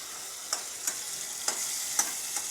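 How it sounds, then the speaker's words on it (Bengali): Tomato and spice paste fries in a pan for aloo kofta, giving a steady close sizzle broken by about five short scraping stirs spaced roughly half a second apart. "এবার এটা ভাজা হয়ে গেলে আমি এটা মিক্স করে দেবো"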